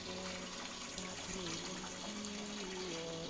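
Water runs and trickles as it is drawn at a historic spring site, a faint, steady splashing flow with murmured voices and ambient noise in the background.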